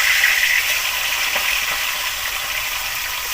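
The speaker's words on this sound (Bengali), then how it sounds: "তেলটা গরম হয়ে গেছে, এবার আমি মাছগুলো ভেজে নেব।" Small mini catla fish frying in hot oil give off a steady, loud, close sizzle with a dense crackle that holds even for a few seconds, and no voices are present.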